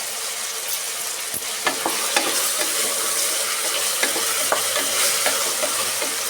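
Vegetables for pulao fry in a pan with a constant sizzle, broken by scraping strokes and light clatters from stirring at an irregular pace, close and fairly loud, without speech.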